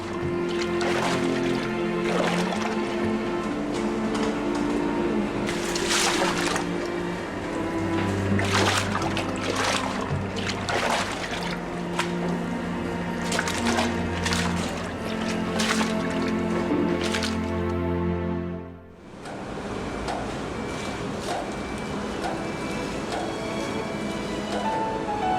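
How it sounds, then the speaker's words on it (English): Koji, steamed rice and yeast go into water during sake making, giving wet squishing and sloshing sounds with repeated splashes over steady machinery hum. The sound cuts off briefly near the end before resuming more quietly. "The koji, created in the last step, is added to water along with steamed rice and yeast."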